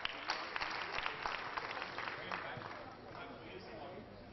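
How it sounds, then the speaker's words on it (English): Conference audience claps in a steady round of applause, many hands patting together at moderate volume and slowly thinning out, with faint voices underneath. "Dr. Bipin Doshi, a big round of applause for him."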